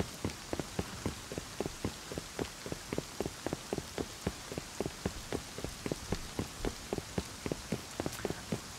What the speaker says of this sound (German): Warum regnet es eigentlich die ganze Zeit?